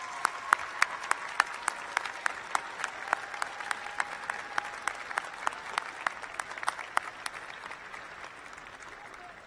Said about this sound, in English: how about a round of applause for your family